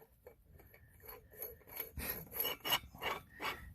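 A nut threads onto a brass pitless well adapter during an installation in Colorado, giving faint scraping and rasping metal-on-metal turns that come in uneven bursts and grow slightly louder, with no voices.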